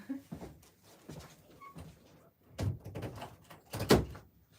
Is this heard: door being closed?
yes